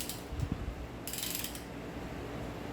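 A ratchet wrench snugs up main bearing cap bolts on a 350ci engine during a bottom end rebuild, giving a few close, quick ratcheting clicks at the start followed by a brief metallic rasp.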